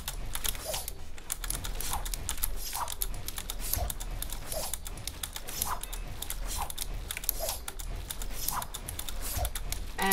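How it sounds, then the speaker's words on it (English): Rapid, continuous clicking of a computer keyboard during a Fortnite edit race, dense keystrokes close to the mic with occasional louder taps, no talk over it. "I know my keyboard is pretty annoying."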